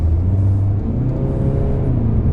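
Peugeot 508 car in sport mode, heard from inside as the engine accelerates with a steady low rumble and rising whir, continuous and fairly loud, no talking.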